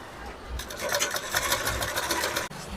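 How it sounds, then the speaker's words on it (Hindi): A sewing machine stitches slowly along the padded section of a princess-cut blouse, running with a steady close whirring hum that stops abruptly near the end. "बिल्कुल बारीकी से सिलाई लगेगी, धीरे धीरे लगेगी पैड वाले जगह पे।"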